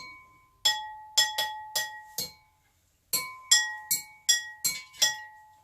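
Glass struck repeatedly with bright ringing clinks, about a dozen taps in two uneven runs separated by a short pause, close and clear.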